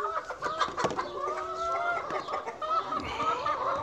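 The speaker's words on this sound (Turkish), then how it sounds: "Burada 300'den fazla tavuğumuz var arkadaşlar." Chickens cluck and call together at a poultry farm housing more than 300 hens, a busy overlapping chorus of mid-pitched clucks close by, with no talking.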